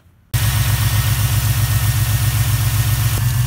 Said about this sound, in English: I'm going to fire it back up and make sure that the belt's not slipping here